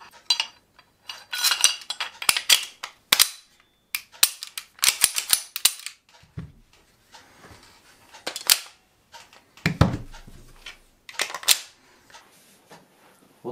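Grand Power T12 Slovakia pistol being reassembled, with a series of sharp metallic clicks and clacks from the slide and stiff spring, coming in close irregular bursts separated by brief pauses.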